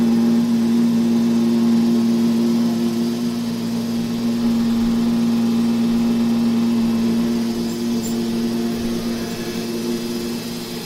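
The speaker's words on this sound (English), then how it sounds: "it's vacuuming right now" A steady mechanical hum drones on without pause from a Neato robot vacuum running close by, even and unchanging throughout.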